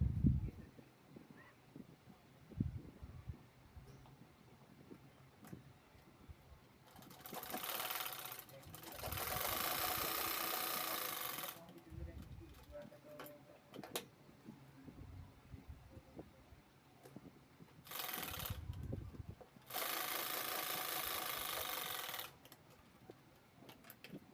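A sewing machine stitches across the folded corner of a cloth bag made from blouse fabric, running in two sustained bursts of steady, close mechanical whirring with quieter handling noises between them.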